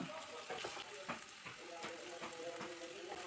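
Sliced onions, green chillies and curry leaves fry with ginger and garlic in a pan for a Kerala fish molee, giving a steady broadband sizzle with occasional crackles and stirring scrapes, close and moderately loud.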